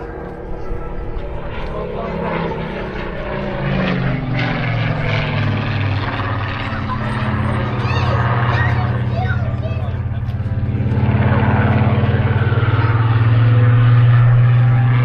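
A Mark 19 aircraft flying at the Eastbourne Airshow 2025, a low droning engine that swells louder toward the end, heard under a commentator's voice and crowd babble.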